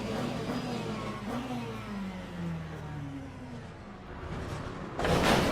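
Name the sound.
GT3 race car engine restarting in Le Mans Ultimate video game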